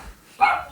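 A dog lets out a single short, sharp bark, close and fairly loud, after a brief quiet moment.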